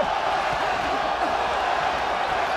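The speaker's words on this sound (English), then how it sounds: "Listen to this crowd as they chant on support for Ramirez" Boxing arena crowd chanting in support of fighter Ramirez, a dense, steady roar of many voices filling the hall at constant loudness throughout.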